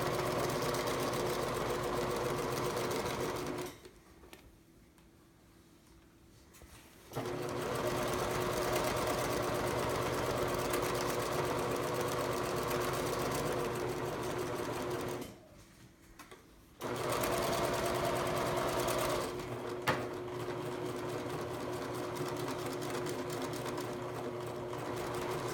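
A sewing machine stitches a photo pillow in steady whirring runs, stopping twice for a few seconds before resuming, with a faint voice during the pauses.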